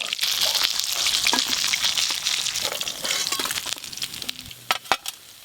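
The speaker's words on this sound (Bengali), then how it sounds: "মাছ এবারে খুব লাল লাল করে ভেজে নিয়েছি" Rohu fish fries in a pan with a loud, steady sizzle, joined near the end by a few sharp utensil clinks and scrapes as the pieces are turned or lifted.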